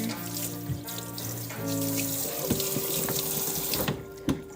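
Cold water gushes steadily from a tap into a sink, a constant broadband rush with faint clinks and splashes near the end.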